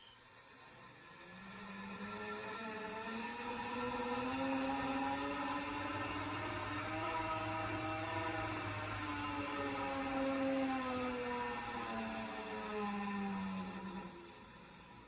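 An electric motor spins a toroidal propeller in a bathtub dynamometer test, a whining tone rising in pitch as it speeds up, holding a steady strained whir, then falling away as the throttle eases back to stop.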